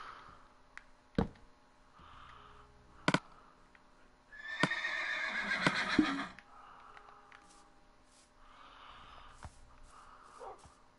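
A horse in Minecraft lets out a loud, shaky whinny amid sparse clicks and thuds, with faint snorts scattered before and after.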